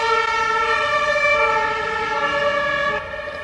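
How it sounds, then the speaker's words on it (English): An emergency vehicle siren wails steadily outdoors, a sustained tonal blare that drops slightly in loudness near the end. "These sirens are like the most annoying"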